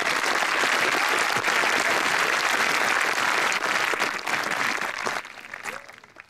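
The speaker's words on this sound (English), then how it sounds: "Can we give them a round of applause?" Sustained, loud applause from a large crowd at a high school graduation ceremony, steady and dense before tapering off in the final second.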